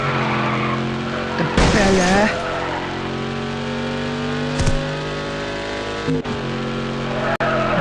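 A fast car in the mobile driving game Madout2 races along with a steady engine drone, breaking into a loud tyre-screeching skid partway through, plus a few sharp clicks and bumps; a voice talks over it.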